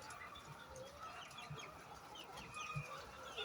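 Free-range brown layer hens cluck softly around a farm, with scattered low calls and faint chirps at a modest distance and no voices.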